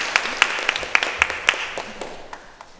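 Scattered audience clapping at a children's Korean storytelling contest, a handful of distinct sharp claps in a loose rhythm that thin out and fade toward the end.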